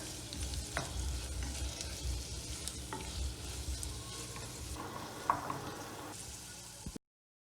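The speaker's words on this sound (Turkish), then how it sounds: "Baharatlarımla birlikte de birkaç dakika şöyle kavuracağım." Meat sizzles and sautés with spices steadily in a pot, with a continuous frying hiss and occasional stirring scrapes, close and moderately loud.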